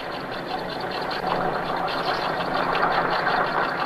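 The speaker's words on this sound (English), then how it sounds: "Only one truck sounds like that." A truck engine runs steadily at a moderate distance, a continuous rough mechanical drone with a faint rhythmic ticking and no voices.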